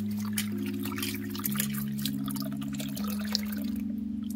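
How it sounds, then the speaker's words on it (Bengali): Raw prawns for a prawn malai curry are rinsed in water, with soft splashing and dripping under steady background music. "মাছটাকে ভালো করে এবার ধুয়ে নেব"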